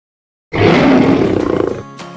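A lion roar used as a sound effect in a dentist advertisement bursts in suddenly after silence, a loud, close, rumbling roar that holds for over a second, then tapers into a short tail.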